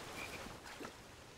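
Frog croaking in the video game King's Quest, a short low croak under a hissy game background with a faint tonal chirp, fairly quiet and brief.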